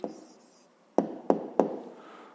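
A pen scratches briefly across a notebook page while an answer to a fifth-grade math volume problem is written down. The soft, close scrape is followed by three sharp taps of the pen.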